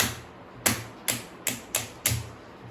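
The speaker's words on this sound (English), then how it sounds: "it has a 180 degree swivel here with definitive clicks" The 180-degree swivel of a sturdy mini rechargeable table fan ratchets through five crisp, evenly spaced clicks, close and distinct, with no talking.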